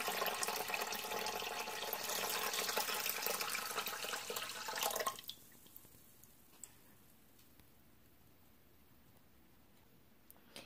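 Water pours steadily into an Instant Pot for plain congee, a close hissing stream that stops abruptly halfway through, leaving faint clicks and near silence.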